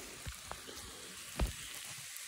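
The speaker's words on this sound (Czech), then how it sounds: "Takže tak, takže já to orestuju." Rice sautés for a carrot risotto, a quiet, steady sizzle with a few soft stirring knocks and scrapes.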